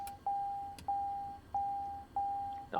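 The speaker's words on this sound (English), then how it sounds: "Acknowledge those annoying alarms." A cockpit warning alarm in a TBM aircraft in Microsoft Flight Simulator 2020 repeats as a steady electronic tone, four long even beeps with short gaps, clear and alone.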